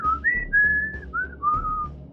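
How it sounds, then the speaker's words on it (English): Abe, the hero of the Oddworld video game, whistles a short sequence of clear, bright melodic notes through GameSpeak, rising and falling in a few separate phrases, up close and with no talking over it. "Don't forget about the whistles that he would do,"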